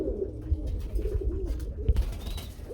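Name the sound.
blue pigeons cooing at a pigeon market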